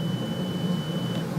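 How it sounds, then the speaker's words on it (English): A thin, steady hearing-test beep tone sounds for most of the second over a louder, constant rumbling background. "Make sure that they identify the beep at least twice at the same level."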